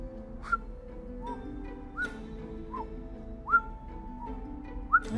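Short, bright whistled notes rise and slide, repeating every second or so over a soft low background hum. The tune sounds casual, like people whistling idly while they walk along.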